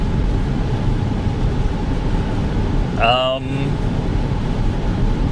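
A 2010 Audi Q5 running at low speed with low oil pressure is heard from inside the cabin as a steady low rumble and road drone, with a brief higher tonal sweep partway through.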